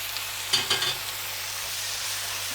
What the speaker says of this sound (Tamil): இதையும் நம்ம லேசாக ஃப்ரை பண்ணிவிட்டு தக்காளி எடுத்து வச்சுருக்கோம்ல அதையும் போட்டுக்கலாம்